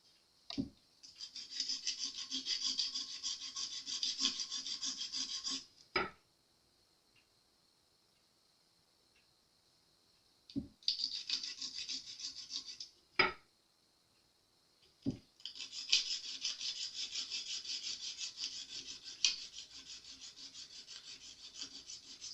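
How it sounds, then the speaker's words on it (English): A new nut on a Jazz Bass guitar sanded with sandpaper, rhythmic raspy rubbing strokes in three long bursts separated by quiet pauses and sharp taps, close and clear with no voices. "Don't put too much pressure. Let the sandpaper do the work."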